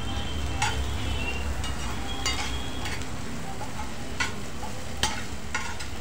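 Onion softening in a pan for poha, with a continuous close sizzle broken by several sharp scrapes and clinks of a spoon against the pan, no talking.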